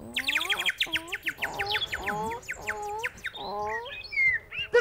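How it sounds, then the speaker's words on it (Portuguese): Small birds chirp and tweet in quick repeated rising calls, close and fairly loud, overlapping each other throughout with a few squawk-like notes and no talk. "Que lindos são os passarinhos!"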